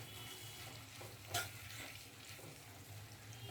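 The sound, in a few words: stirring roasted gram flour into capsicum curry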